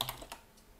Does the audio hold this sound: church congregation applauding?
no